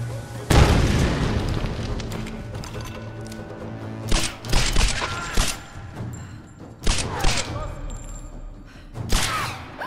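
Gunfire and heavy thumping impacts in the video game Tomb Raider, a loud boom opening the stretch followed by several sharp shots spaced a second or two apart over a steady game backdrop.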